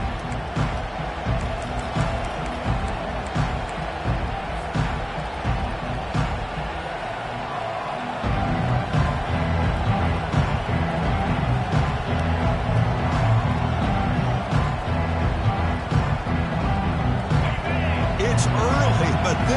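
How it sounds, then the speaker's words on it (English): A college football stadium crowd at a Toledo vs Iowa game roars steadily and swells louder partway through, a dense wash of cheering and noise, with commentary voices over it. "It's early, but this crowd is fired up. Listen to this noise here."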